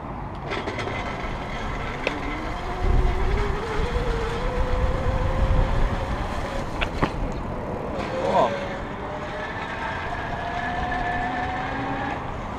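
A 350 W geared hub motor e-bike rides across grass, its faint rising motor whine steady under outdoor rumble and wind with brief knocks, with no speech.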